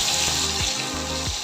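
Fresh pond fish fry in a pan with a steady, close, hissing sizzle that crackles continuously and stays on its own without talk.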